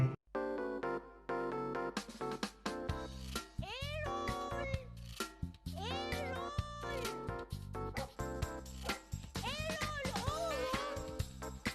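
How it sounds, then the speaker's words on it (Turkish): A cat meows repeatedly in a TV commercial for a gas company, the rising and falling cries standing out over a steady music bed with brief voices. "Nankör kedi."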